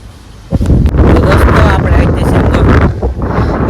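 Strong, almost cyclone-like wind on a farm hilltop buffets the microphone in a loud, roaring rush after a quieter start, with someone talking over it.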